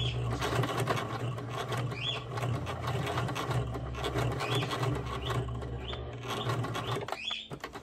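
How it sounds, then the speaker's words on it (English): A sewing machine stitches down an overlapping fabric end on a bow tie, with a loud, continuous mechanical whir and rapid needle chatter that runs close and steady almost throughout before briefly stopping near the end. "I'm just going to stitch down right there to secure it."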